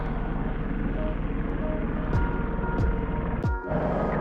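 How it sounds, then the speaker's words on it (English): A firefighting helicopter flying away over forest to refuel, a steady distant rotor and engine drone with a few sharp clicks and rustles close to the microphone near the end. "you can see the helicopter in the distance"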